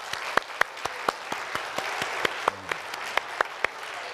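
A church congregation gives a clap offering, a moderate round of applause with distinct sharp claps standing out against softer clapping.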